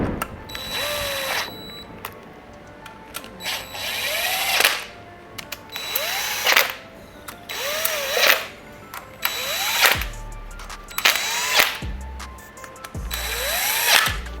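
A power tool spins out the seven lower timing belt cover bolts on a Honda J-series engine in repeated short whirring bursts, each winding up and trailing off, with brief pauses and clunks between them, close and loud.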